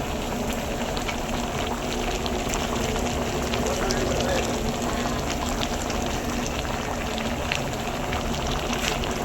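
Chicken pieces fry in oil at a roadside dhaba, a steady dense sizzle and bubbling that runs unbroken and fairly close, with a voice talking over it.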